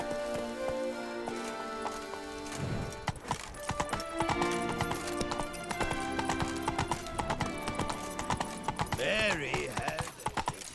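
A horse's hooves clip-clop steadily at a gallop in The Witcher 3: Wild Hunt, with a brief neigh near the end, rain-like patter beneath, and a voice urging the horse on.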